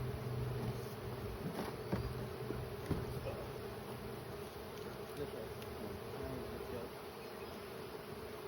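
A soft, continuous buzzing drone of a swarm of bees fanning at a hive entrance hums in the background, faint and steady, with no voices.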